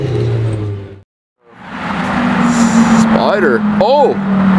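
Lamborghini GT3 roaring past at speed, a loud, steady engine wash swelling after a brief dropout, with excited voices shouting over it.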